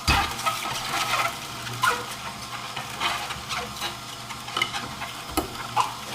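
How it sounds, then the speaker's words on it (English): An Omega juicer crushing rolled-up collard leaves pressed in with a pusher, giving a steady grinding, crackling churn with intermittent squeaky snaps and sharp crunches throughout, close and fairly loud with no talking. "If you roll it up, it'll feed really nicely into the juicer."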